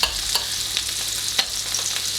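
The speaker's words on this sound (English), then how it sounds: "We'll keep frying those nice and gently" Polenta-dusted halloumi fries gently in a small frying pan, a soft steady sizzle with light crackles and occasional sharper pops or stirs, heard up close with no talking.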